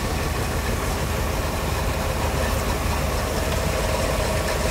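A tired old 1959 Oldsmobile motor idles steadily up close, a loud continuous low rumble with a faint knocking texture running evenly throughout, no voices over it.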